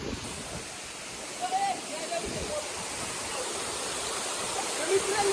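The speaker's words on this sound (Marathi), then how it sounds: "कसा वाटला तुम्हाला धबधबा खूप मस्त आहे" A hillside waterfall in heavy monsoon rain roars as a loud, close, unbroken wash of falling water, with faint voices barely surfacing underneath.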